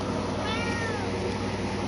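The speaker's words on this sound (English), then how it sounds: "I think this cat could go down as one of the loudest cats in the world." A pet cat in Minecraft gives one drawn-out meow, clear against a steady background hiss.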